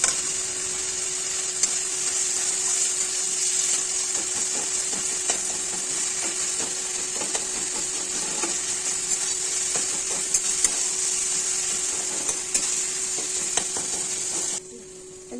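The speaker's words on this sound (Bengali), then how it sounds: "এখন এই যে বেটে রাখা রসুন ছেড়ে দিলাম" Ground garlic paste hisses into frying spices for a potato, tomato and rohu fish curry, a loud continuous sizzle under repeated light ticks of stirring that cuts off abruptly at the end.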